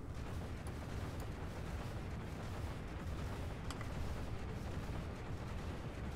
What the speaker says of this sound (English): Oh my god, shotguns?